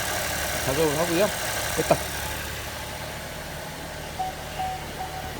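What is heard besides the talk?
Chevrolet Trax Crossover engine started and idling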